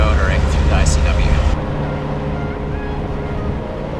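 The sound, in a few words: boat motoring along the Intracoastal Waterway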